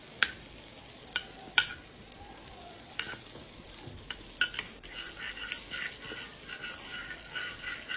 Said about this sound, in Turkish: Sosu için tereyağını at tavaya erisin.